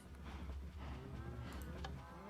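A large crowd of cows mooing at once in Minecraft, overlapping low drawn-out moos forming a dense, continuous bovine chorus with no pauses, fairly loud and close.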